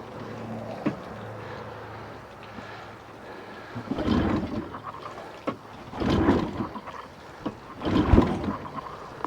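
A 1990 Johnson 25hp outboard motor is pull-started unprimed. Three separate rope yanks sound about two seconds apart, each a short rough burst, with quiet water and handling noise between them.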